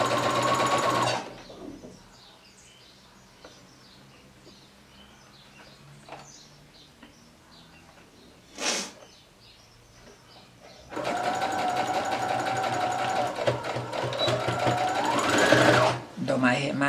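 A sewing machine stitches a fabric garland in loud, rapid mechanical bursts, running briefly, pausing through a quieter stretch with faint chirps and a short whir, then stitching steadily again near and loud, with a voice speaking between runs.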